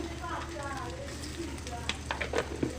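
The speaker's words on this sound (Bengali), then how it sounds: "সরিষার তেল দিয়ে এখন দিয়ে দিচ্ছি পেঁয়াজ কুচি" Chopped onions fry in mustard oil in a large pan, with a soft steady sizzle and a few sharper crackles and stirring clicks toward the end, faint and close.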